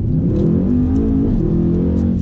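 A car engine revs and accelerates hard, close and loud, its pitch rising and wavering over two seconds with no talking over it.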